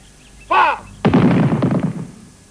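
A single rifle volley from a military firing party of the 63rd, one sharp loud crack that rolls into a decaying echo, following a brief shouted command.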